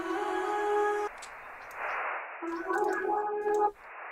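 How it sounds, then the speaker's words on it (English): A sound processed with a Moon Echo effect, giving sustained tonal layers that smear into a washy, noisy echo tail, then a second burst with sweeping, warbling tones, fairly loud with no talking. "if I open Moon Echo,"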